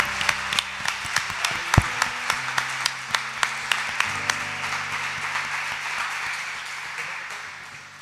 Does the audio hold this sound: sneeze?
no